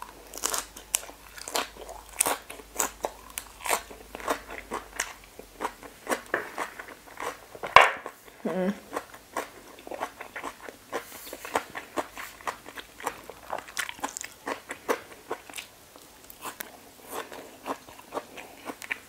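Crisp, crunchy chewing of som tam made with ginger and fresh salmon wrapped in lettuce, close and loud, with a steady run of bites and crackly crunches throughout and no talk.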